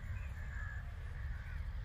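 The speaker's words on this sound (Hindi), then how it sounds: "इधर एक खूबसूरत सा परिंदा और भी बैठा है ब्लैक कलर की" A black bird calls from the trees in a village, repeating a drawn-out, cawing note over a steady low rumble of outdoor background noise.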